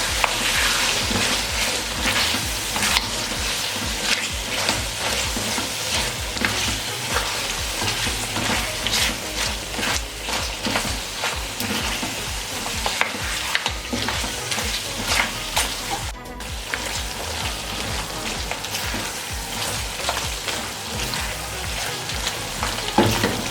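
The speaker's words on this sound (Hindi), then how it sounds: "अब इसमें अचार गोश्त मसाला डाल देंगे, थोड़ा सा बचा लेंगे। इसको अच्छे तरीके से 2 से 3 मिनट के लिए भून लेंगे।" Mutton with achar gosht masala fries and sizzles steadily in a pan, with frequent scraping and clanking strokes of a spoon stirring the masala throughout, loud and close with no talking.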